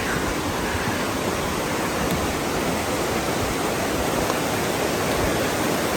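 Steady, loud rush of Cascade Falls on Little Stony Creek in Jefferson National Forest, Virginia, a constant broadband roar of falling water with no voices.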